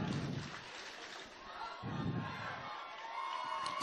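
Crowd of spectators at a girls' high school soccer semifinal in a stadium, a broad steady murmur of voices with scattered shouts and cheers rising and falling over about four seconds.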